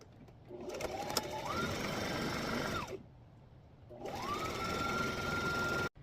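A sewing machine stitches the sides of a small fabric organizer in two loud, close runs separated by a short pause, each rising quickly to a steady whir before stopping.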